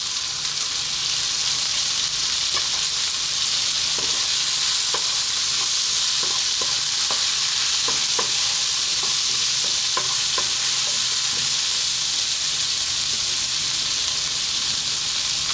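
Chili and cumin powder fry and get stirred in a pot of lentil vegetable stew, giving a steady close sizzle with scattered scrapes and taps of a spoon throughout, no voice present.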